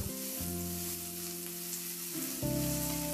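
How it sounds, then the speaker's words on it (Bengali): Potato and brinjal pieces frying in hot oil over a medium-high flame give a steady sizzle with faint stirring clatter and a brief louder burst near the end, close and without voices. "এরপর নাড়াচাড়া করে মিডিয়াম টু হাই ফ্লেমে মিনিট 3-4 সময় ধরে সবজিগুলোকে খুব ভালো করে ভেজে নেব"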